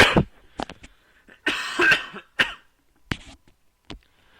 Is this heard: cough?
yes